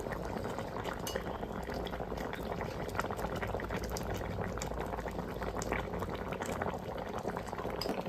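Fish curry bubbles steadily at a rolling boil in a pot with the lid off, a dense close burble with occasional light clinks of a utensil, no talking.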